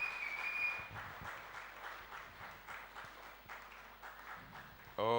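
Congregation clapping during a bilingual French-Portuguese Sunday worship service in church, a steady crackle of many hands that holds through the clip before a brief louder burst at the end.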